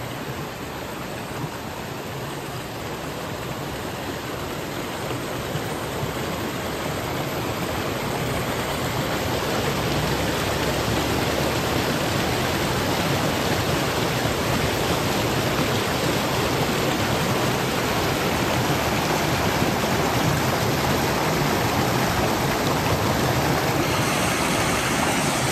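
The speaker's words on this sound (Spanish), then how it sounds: "este río se reduzca a un pequeño arroyo" A river shrunk to a small brook flows with a constant broadband rush of water, steady and fairly loud throughout, with no voices.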